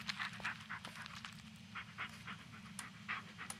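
Bullet the dog pants quickly and rhythmically in the Blair Witch video game, a close, quiet run of breathy huffs over a low steady hum.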